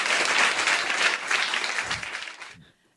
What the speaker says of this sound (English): I always clap.